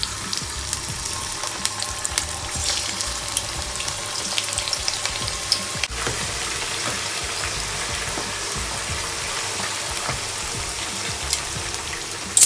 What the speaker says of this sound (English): I took the wings from out of the gravy, so I'm gonna just add them to the oil right now